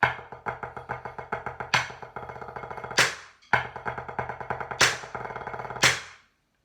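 Blue Devils 2015 drum corps snare line plays a tight break of rapid triplets and paradiddle-diddles, opening and closing with sharp accented shots, crisp and close with two short gaps between phrases.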